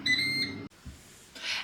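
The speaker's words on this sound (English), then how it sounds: "And we've beeped!" A Ninja Dual air fryer, set to 360 Fahrenheit for a turkey crown, gives a short run of clear electronic beeps after start is pressed, followed by a brief pause and a soft hiss.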